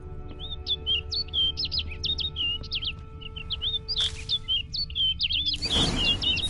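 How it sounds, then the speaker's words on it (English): Birdsong in Witcher 3: Blood and Wine, a repeated series of high chirps and tweets over a low ambient game drone, with a rustling burst near the end. "Looks like the bird's leading me somewhere."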